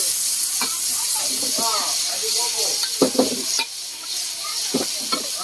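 Chicken sizzles and crackles in a hot pan for mee goreng basah while a utensil scrapes and stirs now and then, and a voice talks briefly in the background.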